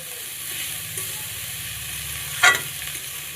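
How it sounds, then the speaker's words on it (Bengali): Leftover cooked rice frying into fried rice in a pan, a steady close sizzle with a brief louder stir or scrape near the end. "মনে হচ্ছে না বন্ধুরা যে ফ্রাইড রাইস রান্না হচ্ছে?"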